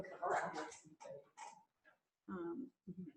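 A pet dog whines and whimpers indoors in several short, close bursts, with brief pauses between the cries.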